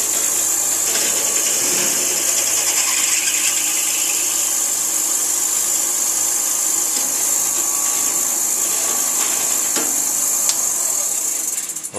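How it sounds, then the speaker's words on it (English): A drill bores a 1/4 inch clearance hole in a part for a grinder-in-a-box build, a continuous loud whirring whine with grinding, cutting noise that runs steadily and then stops. "I'm going to go ahead and drill this for a 1/4 inch clearance hole."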